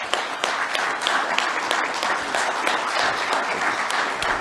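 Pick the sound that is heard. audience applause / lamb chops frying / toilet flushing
audience applause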